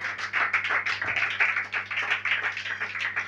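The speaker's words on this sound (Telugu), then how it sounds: "చప్పట్లు కొడదామా?" A congregation claps at a church sermon, giving a brisk, continuous patter of many hands at moderate volume over a low electrical hum.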